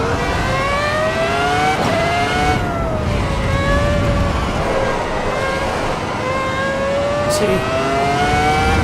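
A race car engine in a racing game revs steadily and rises through the gears, droning loud and close while one short word is spoken over it.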